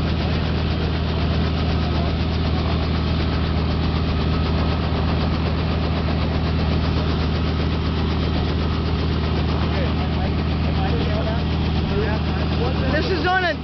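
A Robinson R44 helicopter idles on a runway at a model airplane field after landing, giving a loud, steady throbbing engine drone with a constant low hum throughout, with people talking over it.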